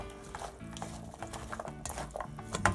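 A chickpea salad with chopped red pepper is stirred in a bowl, making soft, repeated scraping and patting strokes up close, with a light clink toward the end.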